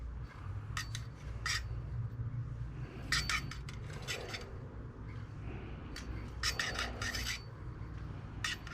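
A cleaning cloth wipes out Remington 870 pump shotgun parts, giving bursts of close, faint rubbing and scraping in irregular clusters over a quiet low background hum.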